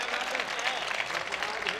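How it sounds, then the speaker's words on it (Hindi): A poetry recital audience gives dense, sustained applause at a Hindi kavi sammelan gathering, many hands clapping at once in an even wash of sound that holds steady from start to finish. "तालियां बजा दीजिए"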